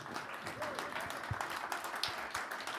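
An audience claps at a Christmas jazz and cabaret concert, a moderate, steady round of applause with some scattered voices mixed in.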